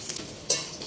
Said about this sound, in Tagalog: ayan, niluluto na natin ang ating chicken popcorn